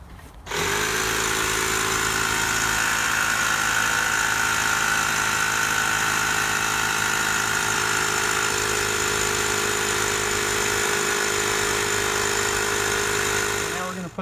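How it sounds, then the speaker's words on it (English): An air compressor pushes 20 PSI of air through the water lines of an R-Pod travel trailer during winterizing. After a brief quiet start it kicks into a loud, steady drone with a high whine that runs almost unbroken. "we're going to turn the air compressor on and put 20 pounds PSI through the lines"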